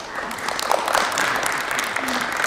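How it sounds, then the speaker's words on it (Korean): An audience at the Hyundai The New Grandeur launch event applauds in a steady, moderately close burst of clapping that lasts the whole moment without pause. "저희끼리만 박수 치니까"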